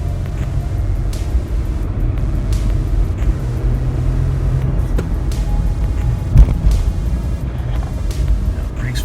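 A 2001 Honda Passport with a shifting problem drives along, its engine and road rumble droning steadily from inside the cabin, with a faint rise under acceleration.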